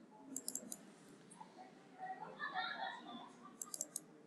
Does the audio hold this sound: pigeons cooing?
no